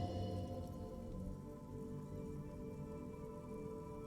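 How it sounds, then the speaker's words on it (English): Steady rain drumming on the roofs of motor vehicles in the Disco Elysium video game, a dense continuous patter of close droplets with a low rumbling bed, no voices. "Rain thrumming on the roofs of motor vehicles."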